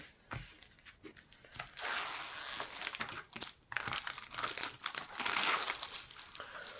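Thick paper packaging from a Temu parcel crinkles and tears continuously during an unboxing, with loud close rustling bursts, brief pauses, and no talking.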